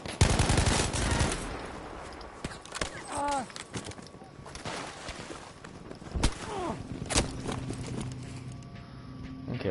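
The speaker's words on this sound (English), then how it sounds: "this guy was able to shoot me with 2 M1 Garand shots mid-slide" M1 Garand rifle fire in Battlefield V: a handful of sharp, close shots cracking out at irregular intervals amid busy battlefield noise and other game sounds.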